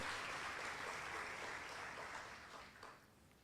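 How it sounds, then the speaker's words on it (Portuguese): A church congregation gathered for a celebration service breaks into applause, a faint, distant wash of many hands clapping that holds steady and then gradually fades away. "Vamos aplaudir ao Senhor por isso."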